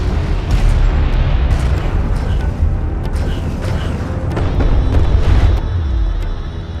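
Turrets taking fire in the strategy game Homeworld: Deserts of Kharak, with loud continuous rumbling explosions and battle booms that form a dense, steady wall of noise.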